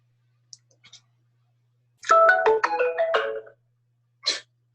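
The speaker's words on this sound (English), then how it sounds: "That was a phone" A phone ringtone plays in a short melodic burst of stacked tones lasting about a second and a half, preceded and followed by brief faint clicks and a short noisy blip, with no talking over it.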